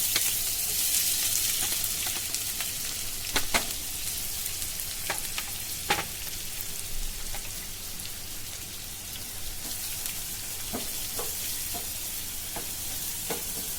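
Chopped onions hitting hot oil already crackling with mustard seeds and cumin for gavran zunka, a steady dense sizzle with scattered sharp pops, close and continuous throughout.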